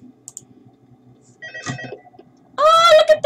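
In the video game Five Nights at Freddy's 2, a telephone starts ringing loudly with a bright, warbling tone after some soft clicks and quiet taps.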